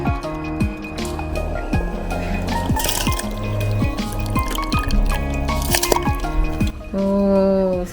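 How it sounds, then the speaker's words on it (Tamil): A pot of rice boils over, bubbling liquid popping and gurgling repeatedly in irregular bursts, close and fairly loud, with faint voices and kitchen clatter in the background. "ஓ, சூப்பராக பொங்கி வருது."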